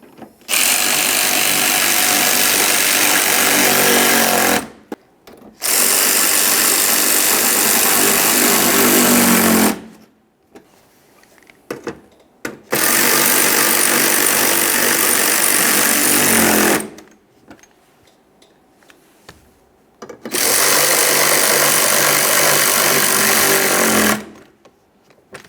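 A power tool tightens fasteners on a 2015-2020 Ford F-150, firing in four loud, close bursts of rapid hammering rattle of about four seconds each, separated by short quiet gaps.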